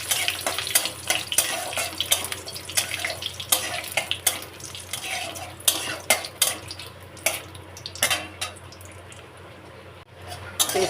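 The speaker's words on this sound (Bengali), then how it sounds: "তেজপাতা আর লঙ্কা ভাজা হয়ে গেছে" Bay leaves and whole chillies fry in oil for mung dal, a steady close sizzle broken by repeated sharp clinks and scrapes of a spoon stirring against the pan.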